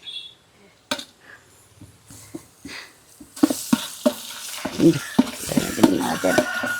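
Ground garlic and ginger paste hits hot oil in a pot for a village-style fish biryani, crackling into a busy sizzle with stirring scrapes and clatter after a few quieter knocks at the start.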